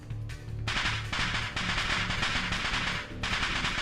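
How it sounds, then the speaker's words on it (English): Rapid bursts of firecracker-like popping from a dust explosion in the Steins;Gate video game, dense crackling volleys broken by brief gaps, loud and close. "A sound like firecrackers resounds from the other side of the door."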